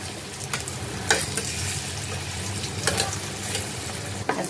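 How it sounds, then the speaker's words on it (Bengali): Food frying in a pan as pieces are flipped to cook the other side, with a steady sizzle and a few sharp clinks and scrapes of a utensil against the pan, close and fairly quiet. "এগুলো আমি উল্টে ভেজে নিচ্ছি আর একদিক।"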